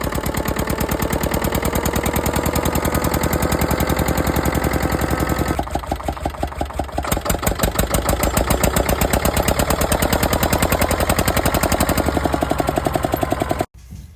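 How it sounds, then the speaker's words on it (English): Armstrong Siddeley single-cylinder diesel stationary engine running close by: a loud, rapid, even thudding beat that dips briefly in tone, picks back up and cuts off abruptly near the end. "So it sounds pretty awesome for an old stationary engine. It's an old diesel cylinder, single cylinder."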